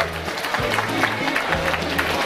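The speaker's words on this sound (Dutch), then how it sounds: "Inderdaad, ook applaus voor deze drie dames." Audience applause at the Dedemsvaria 2014 event as three women are called up onto the stage: a steady, dense wash of clapping from a crowd indoors, with a low hum beneath and no clear talk over it.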